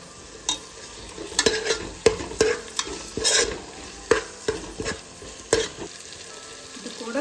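Two chopped medium tomatoes sautéing in a pan for chicken biryani, with repeated close scraping stirs and clatter over a soft sizzle, no talking.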